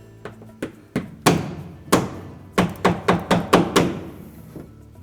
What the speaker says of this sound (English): we'll take one of those spring clips and we'll tap it in place with a hammer